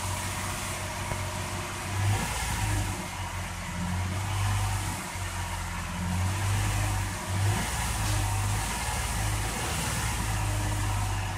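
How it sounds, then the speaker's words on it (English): A car engine running and revving as the vehicle accelerates, a steady low drone that swells and eases in several waves, close and moderately loud with no talking. "This is live data of me accelerating the vehicle."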